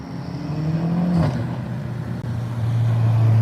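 A BMW car passing on Woodward Avenue, a steady engine hum and rolling whir that swells and holds, fairly loud and near, without talk.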